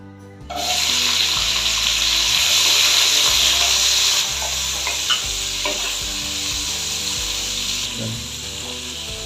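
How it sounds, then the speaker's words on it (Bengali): Onion and capsicum hit hot oil with a loud, sustained sizzle, punctuated by a few clinks and stirring scrapes; nobody talks. "তেলটা আমার গরম হয়ে গেছে এবার আগের থেকে কেটে রাখা ক্যাপসিকাম আর পেঁয়াজটা এতে দিয়ে দিচ্ছি"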